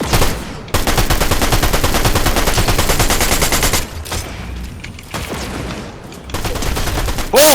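Rapid automatic gunfire while shooting bots in Fortnite, loud sustained bursts of rattling shots with brief gaps between volleys, dense and close throughout.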